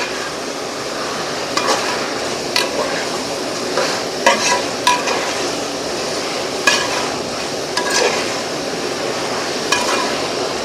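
Chicken is stirred into a frying biryani base, a loud continuous sizzle overlaid with repeated sharp clinks and scrapes of a ladle against the pot, spaced irregularly across the stretch.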